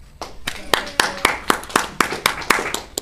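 A stand-up comedy audience claps in a steady rhythm of sharp, close hand claps, with no talking over it.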